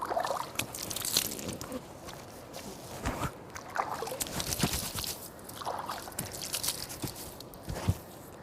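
Water splashed by hand onto the face during ritual washing, irregular close splashes and drips in short bursts with quieter pauses between.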